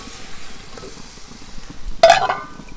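Turmeric-coated chicken pieces drop into a hot pan of tomato and chili for a chicken curry, setting off a sudden loud sizzle after a quiet stretch that then crackles and fades.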